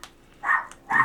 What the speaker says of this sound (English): Uh-oh, I hear a little barking.